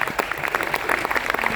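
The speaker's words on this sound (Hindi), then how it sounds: "तो पुलिस के लिए एक बार जोरदार तालियां बजाएं खड़ा।" Loud, dense applause from an audience at a motivational talk for the direct selling industry, clapping for the police in a continuous close burst.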